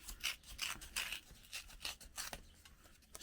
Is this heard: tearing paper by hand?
yes